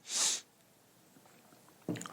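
A person with a cold gives one sharp, loud sniffle, followed by quiet and then a short burst of sound at the end.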